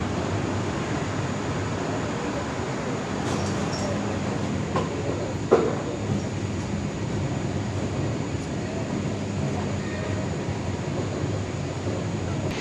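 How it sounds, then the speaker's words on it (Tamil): The Vaigai Express pulls out of Madurai, a steady broadband rumble of rolling coaches and rail noise running throughout, with a single sharp clank near the middle. "ஷார்ப்பாக 7 மணிக்கு வைகை மதுரையிலேருந்து கிளம்பியாச்சு."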